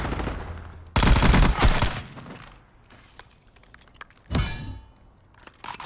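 Gunfire in a Call of Duty Search and Destroy match: two loud bursts of rapid automatic shots with sharp cracks, separated by quieter stretches and scattered distant pops.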